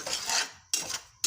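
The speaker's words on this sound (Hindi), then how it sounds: "आप देख रहे हैं कि हमारी सूजी आहिस्ता आहिस्ता से भुन के तैयार हो रही है।" Semolina roasting in a pot, a cup of it stirred for several minutes: scraping, rasping strokes of a utensil against the metal come in three bursts, close and moderately loud with brief pauses between, no talking.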